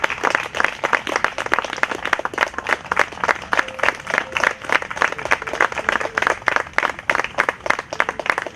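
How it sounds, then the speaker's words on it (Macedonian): An audience applauds the readers at a poetry evening with steady, dense clapping, loud and close, sustained for several seconds with no talk over it. "Ще еден аплауз за нашите Сузана, Мариета и Катерина"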